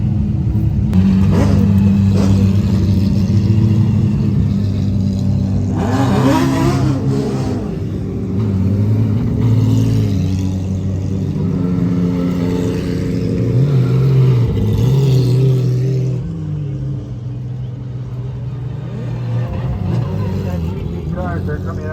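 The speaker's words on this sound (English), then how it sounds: "You can see them coming through turn 11, accelerating up the circuit straightaway here." Porsche race cars at Rennsport Reunion accelerate out of turn 11 up the circuit straight. Engines rumble and rev in rising and falling waves as cars pass one after another, with a voice speaking over them.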